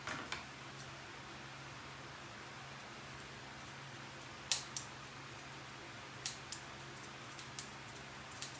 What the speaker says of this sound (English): my poor scissors is probably doing about all they can do